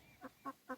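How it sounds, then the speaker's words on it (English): Three short, faint clucks from a hen or young rooster, evenly spaced and quiet, with no other sound around them. "I don't know if this is a hen or a rooster."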